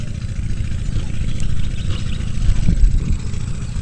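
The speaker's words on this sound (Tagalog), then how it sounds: "kung naririnig nyo yung makina pinapandar na po pinapatuyo na" A loud, steady low rumble from an engine running a pump to drain a fish pond churns on close by outdoors, with light clatter over the continuous drone.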